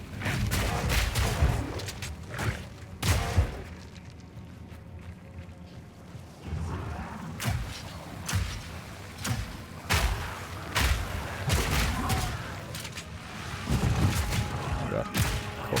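Explosions in the video game Path of Exile 2 go off in repeated heavy bursts, sharp booms and thuds arriving at an irregular pace with rumbling decay between them. Faint talk sits underneath.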